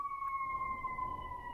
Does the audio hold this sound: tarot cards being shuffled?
no